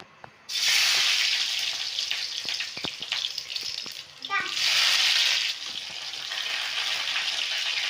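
Chopped garlic, chilli and tomato tempering dropped into hot oil bursts into a loud, close sizzle that fades, swells again, then settles into steady frying.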